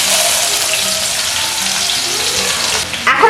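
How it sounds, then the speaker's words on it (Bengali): Chopped onion fries in about three spoonfuls of oil in a kadai, giving a continuous close sizzle, with a brief clatter of stirring at the very end. "এবার এর মধ্যে দিয়ে দিচ্ছি একটা কুচনো পেঁয়াজ।"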